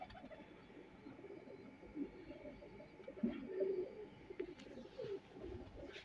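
A high-flying pigeon gives soft, faint, intermittent coos over a low background murmur, with a few brief louder calls in the middle.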